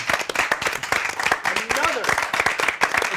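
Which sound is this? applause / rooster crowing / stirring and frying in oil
applause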